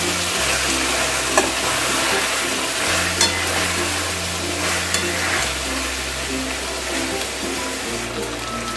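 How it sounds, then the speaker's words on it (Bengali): Chicken frying with tomato and onion in a kadhai over a high flame, a steady loud sizzle with occasional stirring scrapes throughout, no talking. "দেখো হাই ফ্লেমে আমি প্রায় পাঁচ মিনিটের মতন চিকেনগুলোকে টমেটো পেঁয়াজের সাথে ভেজে নিলাম"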